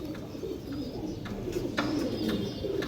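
Breeder pigeons coo in a loft, a steady low rolling murmur of several birds layered together, close and continuous, with a few sharper flutters and clicks over it.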